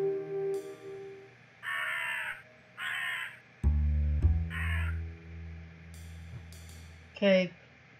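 A crow caws in the Rusty Lake Roots video game: several harsh caws in separate bursts, close and clear, between low droning game music and a deep thud, ending with one more caw.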